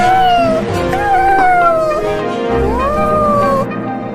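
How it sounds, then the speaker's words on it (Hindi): A voiced cartoon kitten mews in several long, sliding, wailing cries, loud and close, with brief gaps between them. "उधर है वो बिल्ली का बच्चा"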